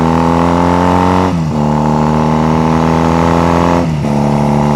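Exhaust of a Honda Rebel bobber motorcycle running steadily and loud up close, a rich harmonic idle with two brief dips in pitch as the throttle eases off and returns.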